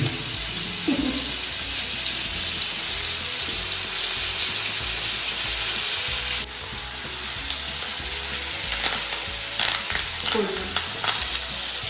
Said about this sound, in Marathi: आता एकदा पलटी केल्यानंतर किती आपल्याला डीप फ्राय करायचे ते बघून घेऊ